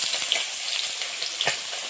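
Koi fish frying in a pan, a steady close sizzle with faint stirring clicks running throughout.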